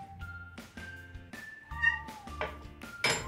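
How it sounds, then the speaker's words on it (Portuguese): A pet cat meows several times at close range, each call distinct and loud, with short pauses between them. "Meu gatinho, é o Zeca."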